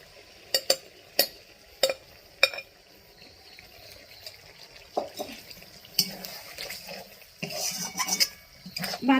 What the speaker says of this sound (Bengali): আমি 2 মিনিট একটু নেড়ে নিচ্ছি, তারপর আমি জল দিয়ে দেবো।